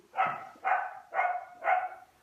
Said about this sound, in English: even with her boyfriends barking outside to come play with her